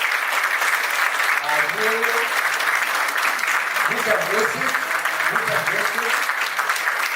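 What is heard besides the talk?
audience applause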